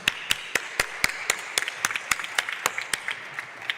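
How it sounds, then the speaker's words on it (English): Sparse applause at a longevity advocacy summit panel in Madrid, a small audience clapping for a panelist as distinct, fairly evenly spaced claps, close and moderately loud with little else around them. "and an applause to Carmen"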